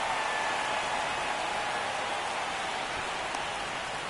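Rain falling at a ballpark in the baseball video game MLB The Show 24, a dense, steady hiss of downpour, loud and unbroken throughout, with no voices.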